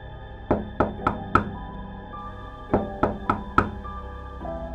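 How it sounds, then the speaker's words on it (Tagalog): Two quick bursts of four sharp knocks on a house door, loud and close, separated by a short pause, with a low steady hum underneath. "Kumatok ako sa pintuan nila Buknoy."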